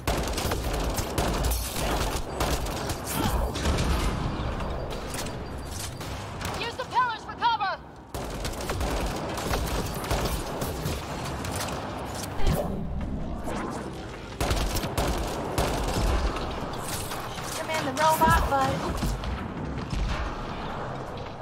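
Gunfire in the video game Mass Effect: Andromeda rattles on in dense, rapid volleys that hardly pause, loud and close throughout.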